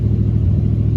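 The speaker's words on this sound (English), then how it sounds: "Rev her up" Car engine idling with a steady low rumble and a slight rise in pitch as it is revved while parked, loud and close throughout with no other sounds.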